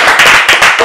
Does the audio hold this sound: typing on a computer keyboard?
no